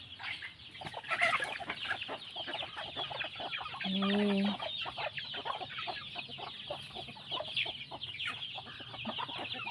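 Chickens cluck softly and repeatedly in the background, with a brief louder fowl call partway through, set against a faint outdoor ambience.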